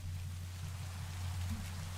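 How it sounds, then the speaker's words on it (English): Night rain in Minecraft falls as a soft, constant hiss of drops, faint and even, over a low steady hum. "It's raining. It's the middle of the night."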